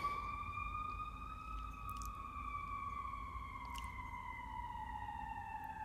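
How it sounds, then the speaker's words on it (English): An emergency vehicle siren passes outside, a faint, distant, sustained wail that slowly falls in pitch over several seconds against quiet background noise. "Pardon the siren."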